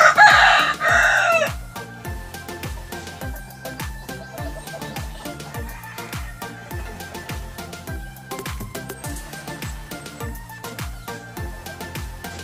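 A rooster crows loudly at the start, then hens cluck in a steady rhythm close by, over a faint pulsing background, among chickens being treated for fowl pox.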